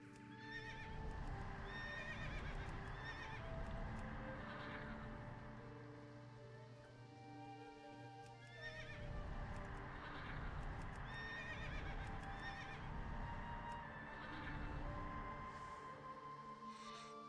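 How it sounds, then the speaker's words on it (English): A horse in a video game neighs and whinnies repeatedly over clip-clopping hooves, loud and close, with a faint background wash throughout. "scared of a horse neighing at it"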